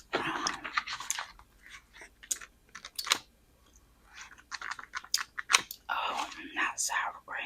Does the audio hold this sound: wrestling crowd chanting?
no